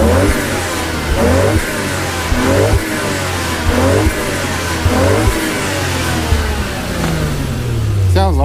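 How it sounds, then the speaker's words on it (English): A 1992 Toyota Soarer JZZ30 2.5GT-T with a twin-turbo engine and five-speed gearbox is revved at a Japanese car auction, giving about five loud, evenly spaced blips from idle before the revs fall away. "Okay, let's give it a couple of revs anyway."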